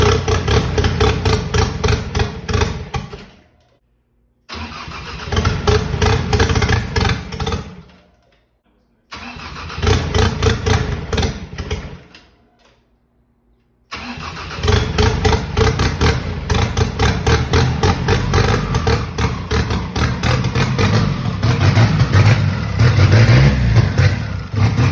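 A Ford EcoBoost engine swapped into a Mazda Miata cranks and catches in several rough starts with short gaps between them, then runs loud and steady, close by, with no talking.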